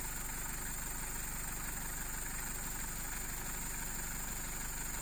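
A modified Mitsubishi L300 with its L300 engine and chassis idles in a steady, even rumble, loud and continuous with a faint high whine over the throbbing drone.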